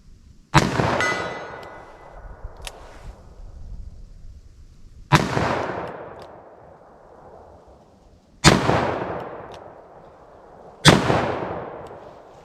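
.44 Special Keith loads from a .38/44 Heavy Duty revolver crack out as four loud, close shots a few seconds apart, each one ringing into a long echoing tail outdoors.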